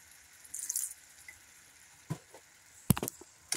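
Vegetable stock poured into a hot pan, a faint hiss and sizzle followed by a few short, sharp splashes and clinks, quiet overall with no talk.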